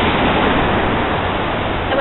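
Sea waves on the beach at Brighton, a steady broad wash of surf noise lasting two seconds, fairly loud and continuous with no distinct breaks or voices.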